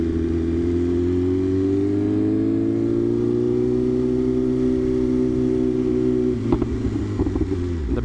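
A BMW S1000RR with a brand-new exhaust holds a loud, steady engine drone, then lets out a short run of sharp crackling pops near the end.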